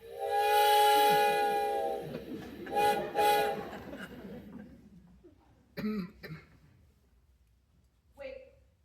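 A steam-era train sounds a loud, sustained whistle twice, with rumbling wheels and clatter fading as it arrives, followed by a few brief knocks and a cough.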